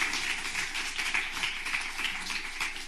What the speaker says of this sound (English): Everyone will give you a huge round of applause